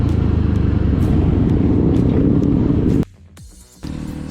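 A 2025 Yezdi Roadster motorcycle rides along with a steady, loud engine rumble that drops away suddenly near the end, leaving a quieter lull before the engine noise returns.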